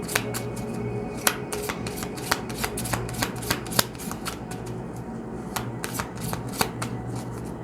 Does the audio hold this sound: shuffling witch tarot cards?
yes